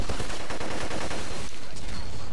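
Machine gun fire in the video game Black, played on a PS2 game running on a PS3. Dense, loud automatic bursts come in rapid succession and fill the whole short stretch without a pause.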